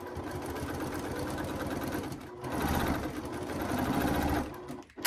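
A sewing machine runs steadily for about five seconds, stitching a quarter-inch quilt seam in cotton fabric, with a brief dip and a slight change in pace near the middle and an abrupt stop at the end.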